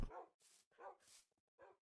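Minecraft wolf barking in the video game, several short faint yips and barks in quick succession with gaps of silence between.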